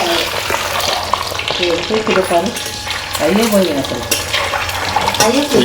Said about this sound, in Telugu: గుడ్లు మొత్తం అయితే వేసేసుకొని మంచిగా ఫ్రై చేసుకున్నాం